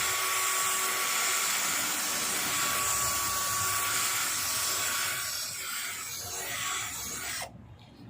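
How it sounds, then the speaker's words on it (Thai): An electric drill fitted with a polishing pad buffs car paint, giving a steady, close high-pitched whine with a rubbing hiss that runs continuously before cutting off abruptly near the end. "เราขัดด้วยสว่านนะครับ ก็จะดีกว่าขัดด้วยหินเจียนะครับ"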